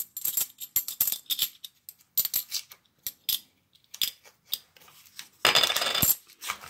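Coins drop and clink in a rapid scatter of sharp metallic taps, close and fairly loud, during a coin pusher arcade game, ending in a dense burst of coins pouring out together.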